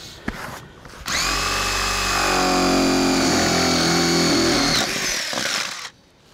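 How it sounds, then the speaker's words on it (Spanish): A power drill bores a hole through a roof while a solar-powered roof vent is being installed, giving a loud, steady high-pitched whine that runs about five seconds before spinning down, with no talking. "Voy a hacer un hoyo con esta broca para que de allí pueda yo empezar a cortar con la pequeña sierra que tengo aquí."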